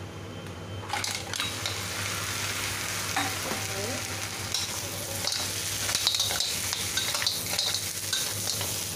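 Green shell mussels sauté with golden brown garlic in a hot pan, giving a steady sizzle and crackle throughout, with scraping stirs, shell clinks and brief clatters.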